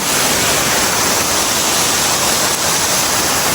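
Caunayan Falls in Aurora pours in a loud, constant roar of falling water, a broad, unbroken rushing heard close up. The noise stays level throughout, with no talking.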